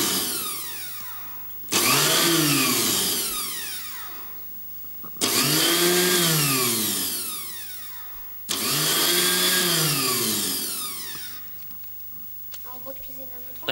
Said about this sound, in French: Mais oui, C'est le moulin à légumes, exactement.